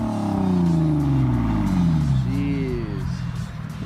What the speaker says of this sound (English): He's gonna rev this, so like a racer.